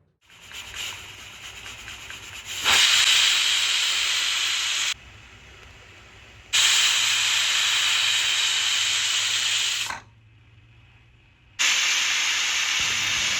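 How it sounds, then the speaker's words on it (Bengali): Pressure cooker on a high flame steaming pabda fish, loud sustained hissing whistles in three long bursts separated by quieter gaps, close and steady with no talk. "প্রেশার কুকারে পরপর 3টি হুইসেল দিয়ে নেব।"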